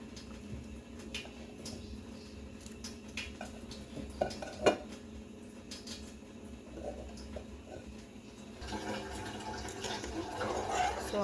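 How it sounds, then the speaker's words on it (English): A pot holding bananas, Irish potatoes and dumplings is stirred with a metal spoon, giving faint clinks and scrapes against the pot with soft watery sloshing, close but quiet, and no talking. "So I'm stirring the pot just to make sure none of the dumpling doesn't itch to the bottom"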